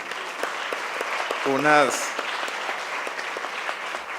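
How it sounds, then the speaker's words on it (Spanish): An audience at a legal conciliation and judiciary conference applauds a panel, steady moderate clapping throughout, with a brief voice rising over it midway. "pido un aplauso para este panel"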